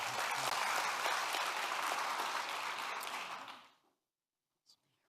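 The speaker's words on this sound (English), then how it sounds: "a round of applause for her as well" An audience at a regional educators' awards and scholarship ceremony applauds an absent Mayfield High School teacher. The clapping is dense and steady for nearly four seconds, then fades quickly into silence.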